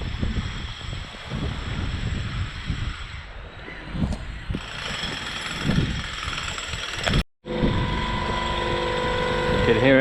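Mechanical clanking, ratcheting and grinding from the Super Cyclone amusement ride at Funland, Hayling Island, as it moves into position, heard outdoors under wind noise with a brief dropout, then a steady machine hum.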